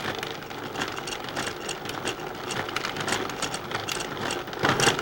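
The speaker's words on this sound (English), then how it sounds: "As soon as the dough begins to form a ball, time it for about 45 seconds to let it knead." A food processor kneads bread dough with a continuous motor drone and a thumping, uneven churn as the dough ball knocks around the bowl, steady and close with no talk.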